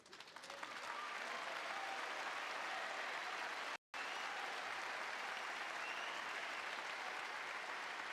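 Sustained audience applause at a snooker championship venue, swelling quickly to a steady, full wash of clapping that continues without talk, briefly cut by a momentary dropout.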